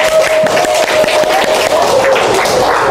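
Loud, continuous clapping from a group at the close of an academic coaching and supervision session, a dense wash of applause with a faint tone running through it and little speech.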